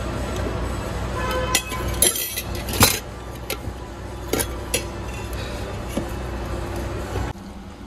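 A glass cup and a spoon clink as they are handled and carried in a home, with scattered bright taps and chinks over a steady background hum.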